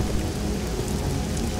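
Rain pours steadily in a storm in the pirate adventure game Risen 2: Dark Waters, a dense continuous wash of rainfall with low rumbling underneath, loud and unbroken, without voices.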